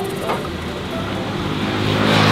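A motorbike engine runs in a steady, loud drone that swells slightly toward the end, with a faint voice underneath.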